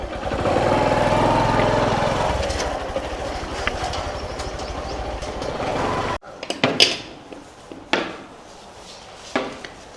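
A motorcycle engine runs steadily up close for about six seconds, then cuts off, followed by scattered clunks and knocks as the bike is parked.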